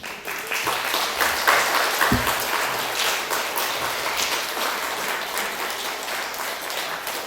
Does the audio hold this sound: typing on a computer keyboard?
no